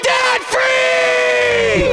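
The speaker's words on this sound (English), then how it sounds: "Let's hear a debt-free scream" A family screams loudly together in celebration of becoming debt free, a sustained group shout with several voices yelling and whooping for about two seconds, close and forceful, with a brief dip before the scream swells again.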